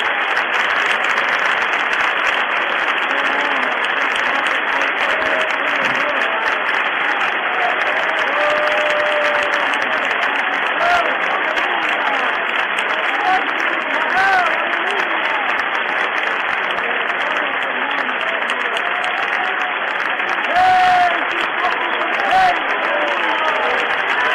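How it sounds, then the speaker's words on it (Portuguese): A church congregation breaks into long, sustained applause, dense clapping from a large crowd that holds at a loud, even level throughout with scattered voices mixed in. "um lindo e demorado aplauso do teu povo"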